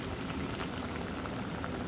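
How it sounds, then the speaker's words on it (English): Pasta water boiling hard in a pot on the stove, a steady close bubbling and hissing wash with no pauses and no talk. "you can see the pasta start to boil"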